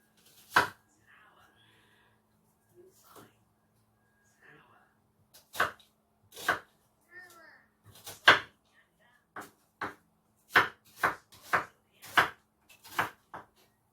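A knife chopping onion on a board, irregular sharp thuds in short clusters, sparse at first then quicker and more regular, close and clear in a quiet room.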